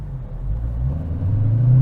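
A 2023 Dodge Challenger Swinger drag car accelerates with a deep, steady engine rumble that swells and climbs gradually in pitch and loudness, heard close up from inside the car.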